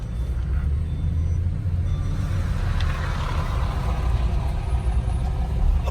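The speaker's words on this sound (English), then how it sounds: "I'm not sure what the hell this truck is doing" A truck rumbles nearby on a street, a loud, steady low-pitched engine drone with a hiss of air, continuous throughout and with no talking.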